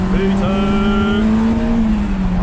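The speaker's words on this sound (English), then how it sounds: "Oh, I'm gonna hit the VTEC." A Honda S2000 accelerating in second gear as the engine climbs into VTEC, a loud rising high-revving wail up close with a clear tonal whine, driven on a road in Japan.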